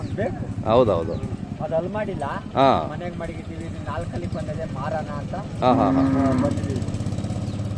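A Hallikar cow moos nearby at a village cattle fair while people talk over it, its low call rising out of the steady conversation.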